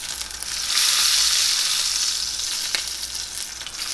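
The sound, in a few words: New York strip steak fat rendering and sizzling in pan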